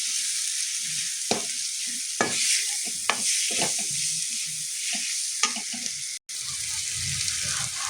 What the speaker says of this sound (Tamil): இந்த மசாலாஸ்லாம் வந்து இந்த எண்ணெயிலேயே நல்லா வறுபடணும்.